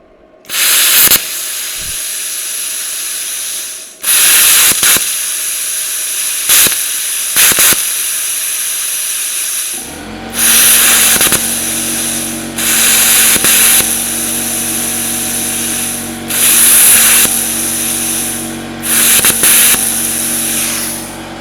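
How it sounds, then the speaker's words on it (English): A Vevor 110v/220v plasma cutter running alongside an air compressor that is causing trouble: loud hissing cutting bursts and air blasts come on and off in uneven pulses, with a steady compressor drone joining halfway through. "Seems to be we're having some problems when the compressor kicks on."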